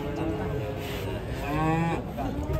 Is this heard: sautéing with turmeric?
no